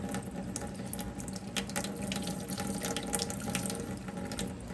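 Water runs steadily from an outdoor spigot while tomato seeds are rinsed and pulp is poured off, a continuous close splashing rush with no talking.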